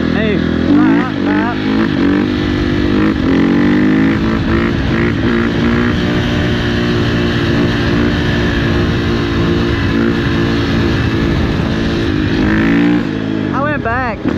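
An FC350 dirt bike at full throttle while doing a wheelie, its engine loud and close, rising and falling in pitch, with voices talking over it.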